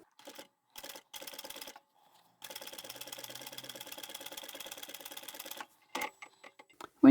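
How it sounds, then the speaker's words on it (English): A sewing machine stitches a seam along one side of a leather or vinyl scrap pouch, running in short bursts and then one long steady rattling run of rapid needle strokes close up, with handling knocks near the end. "going to come down and sew on one side"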